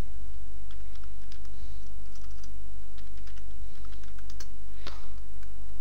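A name typed on a computer keyboard during a game install, as steady close keystrokes in quick uneven runs over a constant low hum, with no speech.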